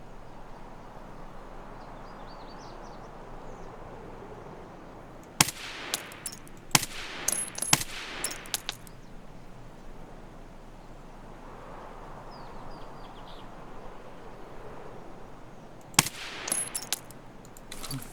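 Escape from Tarkov gunfire comes in two clusters of sharp, loud shots and short automatic bursts, separated by a long quiet stretch of low ambient hum.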